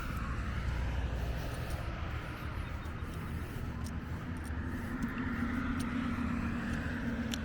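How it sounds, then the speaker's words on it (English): Road traffic passes near a park and pool, a continuous broad roar of vehicles that swells and fades slightly while staying steady and fairly distant throughout. "Traffic, always traffic."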